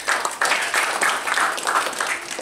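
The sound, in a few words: church congregation applause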